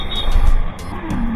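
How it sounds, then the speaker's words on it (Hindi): Motor vehicles pass on a road, heard from a moving Honda X-Blade 160 cc motorcycle: a loud, close whooshing rush of traffic with low engine rumble, fading briefly before another vehicle goes by. "अब गाड़ियां वगैरह चल रही है"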